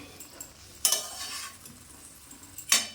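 Neem shukto with milk in a pan is stirred in two brief bursts of spatula scraping against metal, separated by quiet low bubbling. Close and soft, with no voices.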